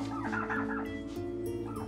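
A turkey gobbles in a few quick, warbling bursts, moderately faint and close, with no speech over it.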